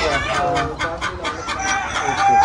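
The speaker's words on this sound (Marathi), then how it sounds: "आता हे सगळ्या कोंबड्या आहेत" Hens in a free-range poultry farm housing about 3000 native birds cluck and squawk continuously in a close, busy chorus, with a voice speaking faintly beneath.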